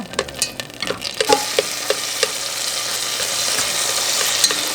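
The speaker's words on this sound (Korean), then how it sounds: "고기를 참기름으로 먼저 볶고" Meat stir-fries in sesame oil in a pot before seaweed soup is made, a steady close sizzle with a run of light utensil scrapes and taps early on, then an even frying hiss.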